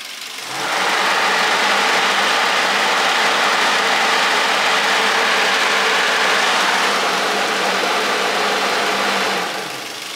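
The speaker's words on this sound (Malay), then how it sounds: "Macam dalam kes ni kipas pusing kan." A steady electric radiator cooling fan motor whirs at an even pitch, starting up, running continuously for several seconds, then winding down, with no voices.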